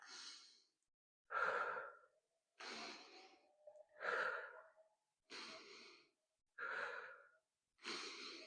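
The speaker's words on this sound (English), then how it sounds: "Exhale when you're coming back." Soft, close breaths are exhaled during a core and pelvic floor workout, seven audible sighing exhalations in an even rhythm with short pauses between them.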